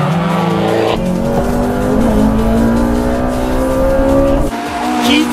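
Two Honda front-drive cars, a Seeker FD2 and a Spoon FN2, race hard on a mountain pass, engines screaming at high revs with rising pitch and tyres squealing through a tight corner, loud and close throughout.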